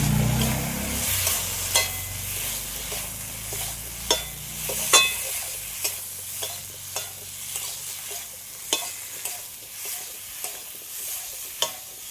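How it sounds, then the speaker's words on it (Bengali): Potato and plantain being sautéed with spices in a pan, a soft sizzle running under repeated scraping stir strokes at a fairly regular rhythm, close by with no talking. "আলু আর কলা এবারে মশলার সাথে ভালো করে কষিয়ে নেব"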